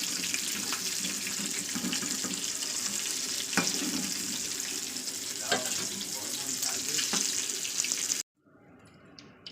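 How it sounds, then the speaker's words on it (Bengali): Fish fry in oil with a dense, steady sizzle and hiss, with a few faint clinks from the pan, before the sound drops away at the end. "দেখতেই পাচ্ছেন আমার মাছগুলো ভাজা হয়ে গেছে"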